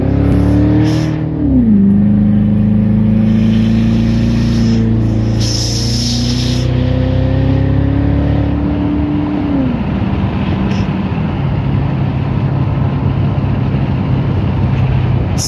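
A 2008 Crown Victoria's engine revs hard while driving, a loud, close harmonic drone that rises and falls in pitch through several throttle changes, then settles into steady road rumble.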